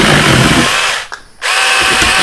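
An Alloyman 6-inch mini chainsaw buzzes loudly and steadily cutting a tree branch, briefly dropping out for a moment before revving back up to full whine.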